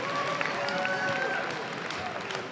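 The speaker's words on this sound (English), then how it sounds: "How about a nice round of applause" A gym crowd applauds volleyball officials at a Section 8AA high school playoff match between Perham and Crookston, steady clapping and cheering filling the room, with a faint tone drifting through.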